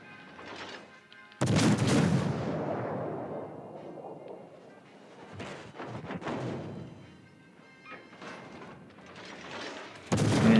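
Warship guns firing in the naval battle game World of Warships: Legends, a few heavy booming salvos with rumbling decay between them, loud and close, one salvo landing at the very end.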